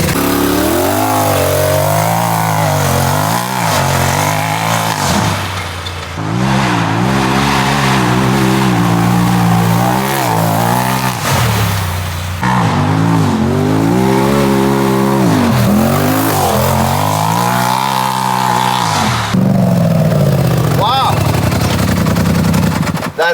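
A car accelerates hard on a test drive after a suspension upgrade, its loud engine rising through repeated revving climbs and gear changes, with people talking over it.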